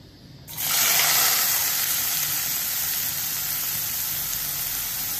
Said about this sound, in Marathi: आणि तो तेलामध्ये चांगला फ्राय करून आपल्याला घ्यायचा आहे